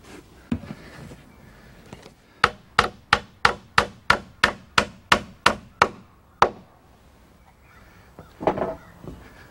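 Hammer strikes drive 6-penny stainless steel nails into gazebo soffit boards under the collar tie extensions, about a dozen sharp, evenly spaced blows in a steady run, followed by a softer shuffle of handling.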